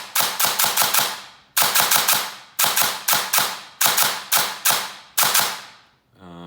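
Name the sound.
T238 gel blaster firing on full auto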